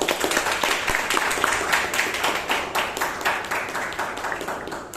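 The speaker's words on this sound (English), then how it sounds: "let us together welcome our guests with a thunderous applause" A Toastmasters meeting audience in Bangalore bursts into dense, sustained applause welcoming guests, many hands clapping together close and loud throughout, with no talk over it.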